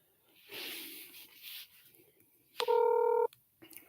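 A telephone is dialed, giving a short burst of steady dialing tones that sound loud and close after some faint rustling, with a brief sound following.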